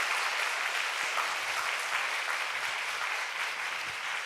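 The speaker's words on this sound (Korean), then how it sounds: "박수로 한번 환영해 주시고요." A room of parents at a Christian middle school lecture applauds to welcome the lecturer, a sustained, even wash of many hands clapping for several seconds without a break.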